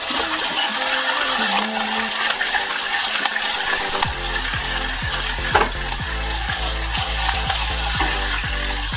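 Hot oil sizzles steadily as green chillies go into the pan, with occasional stirring and clinks of a utensil against the metal.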